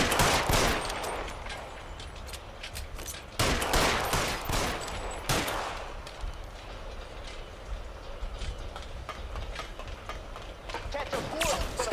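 Gunfire in an L.A. Noire Remastered shootout: scattered sharp shots and bursts, some loud and close, others fainter, ringing out over a tense background while voices talk over the fighting.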